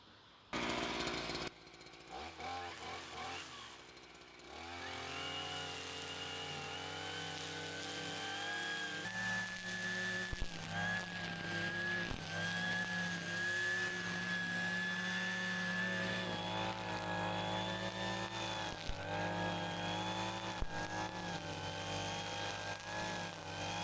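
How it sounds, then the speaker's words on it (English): A Titan 5-in-1 petrol multi-tool running as a strimmer: a loud, steady two-stroke engine drone with strong harmonics, rising and falling slightly in pitch as it revs, continuous for the whole stretch. "so now we've tested out the strimmer function"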